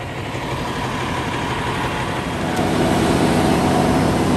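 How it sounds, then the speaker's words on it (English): A loud, steady diesel truck engine idles close by with a deep rumble that holds constant throughout. "Alright, so the truck is in place. It's very loud."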